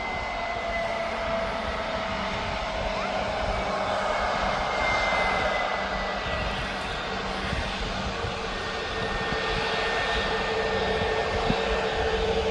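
A Loganair Embraer ERJ 145 jet departs Birmingham Airport for Aberdeen, its engines a loud, steady, continuous roar with a faint whining tone running throughout.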